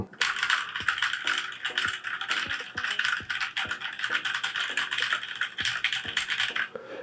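Rapid tapping on a Cooler Master CK721 wireless 65% mechanical keyboard, a fairly quiet clatter of keystrokes in quick irregular bursts, close up.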